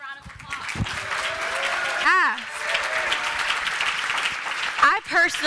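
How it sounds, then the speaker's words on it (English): Audience applause rising after a speech at a Chicago Public Library event, a steady wash of clapping from a crowd, with brief voices cutting through near the middle and end. "Give them another round of applause."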